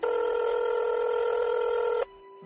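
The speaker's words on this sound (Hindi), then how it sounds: "उसने तुरंत सौंदर्या को वीडियो कॉल किया।" A phone dials out for a video call, a loud steady electronic dialing tone held for about two seconds before cutting off abruptly, with a faint click at the end.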